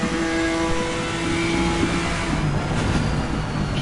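A BMW GT3 race car in Assetto Corsa Competizione at Silverstone, its engine loud and close, droning steadily at high revs and climbing in pitch as it accelerates along a straight.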